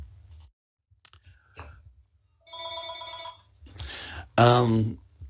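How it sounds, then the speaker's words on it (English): A telephone rings in the background at a genealogy society's general meeting: one short, bright, trilling ring burst, followed by a voice talking. "And there's my phone in the background."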